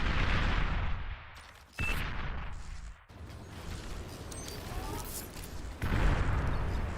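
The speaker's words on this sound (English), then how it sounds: "It's just artillery bombardments right now." Continuous rumbling booms and blasts of artillery bombardment in the real-time strategy game BAR, dense and loud throughout, with someone talking over the barrage.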